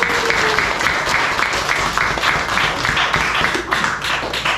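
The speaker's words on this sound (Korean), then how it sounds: "박수 치려면 치십시오." An audience at a Korean health lecture claps, a loud, close, somewhat uneven patter of hands with distinct individual slaps, continuing steadily throughout without talk.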